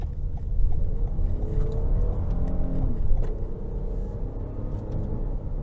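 Engine of a 2022 Toyota Highlander XLE AWD on the interstate during a downshift, a loud steady drone with rising and falling rev tones under road noise, no talking.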